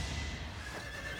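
A horse in the video game Fire Emblem Three Houses neighs loudly over a dense game soundscape, one drawn-out whinny with no speech.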